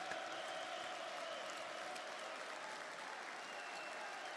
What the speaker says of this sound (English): I give you guys a round of applause.